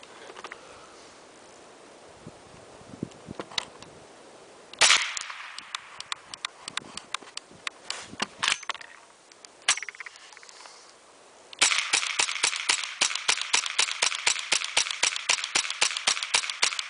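PPS-50 submachine gun firing from a conventionally loaded drum magazine: sharp cracking shots come in scattered singles and short bursts, then a loud, steady rapid-fire run near the end.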